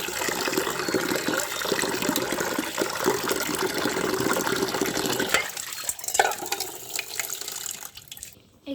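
Cut vegetables being washed under running tap water in a sink, a steady close gush and splashing with rattling handling, then the flow cuts off near the end.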